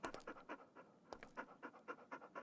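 A dog in the video game Stormworks pants rapidly and rhythmically, a quick series of breathy huffs close by with a short pause midway, alone without talk.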